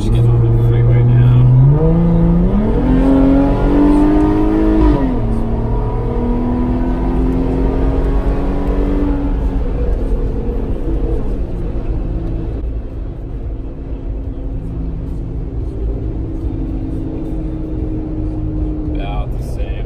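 A Jeep JL with a Borla cat-back exhaust accelerating onto a freeway, its engine droning loudly and rising in pitch through gear changes before settling into a steady cruising rumble.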